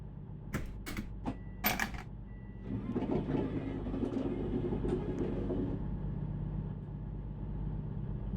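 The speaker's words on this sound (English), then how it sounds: "I will demonstrate the working of this train in this mode without me talking" At Wallsend station, a British train gives several sharp mechanical clicks and knocks, then a low rumbling run builds and continues steadily in the background.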